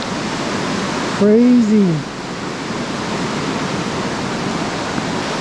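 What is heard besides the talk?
waterfall in Meghalaya, India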